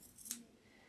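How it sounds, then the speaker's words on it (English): Scissors snip a seam allowance on fabric while a quilted pillow is being sewn, giving a single soft, close cut in a quiet room. "I just use my scissors"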